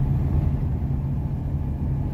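A car cruising along a quiet desert highway in Nevada, its steady low engine and road rumble droning continuously and close, with no voices over it.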